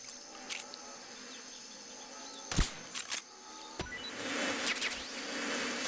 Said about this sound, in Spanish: Estas abejas.